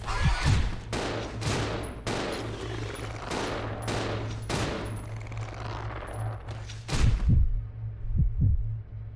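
Shotgun and pistol fire from Resident Evil 0 bursts out in a rapid series of loud, sharp blasts over a constant low hum, then pauses before a final cluster of heavy shots.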